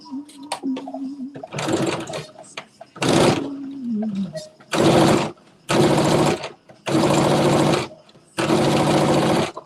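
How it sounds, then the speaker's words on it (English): A sewing machine top stitches a garment in repeated bursts of running, each about a second long with short pauses between, close and fairly loud, after a few quieter mechanical clicks and a brief tonal whir near the start. "I'm going to top stitch this down"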